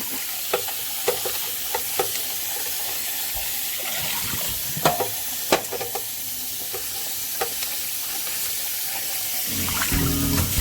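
A green chili pepper is rinsed in water in a home kitchen, with splashing, trickling water and scattered sharp knocks and taps against the bowl or sink, fairly close and steady with a louder swish near the end.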